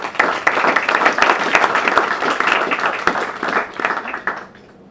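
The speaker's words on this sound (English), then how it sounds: "please join me as we give a round of applause to Mr." Audience applause at a startup event welcoming a speaker, loud close clapping from a room of people that builds quickly, holds steady for several seconds, then tapers off.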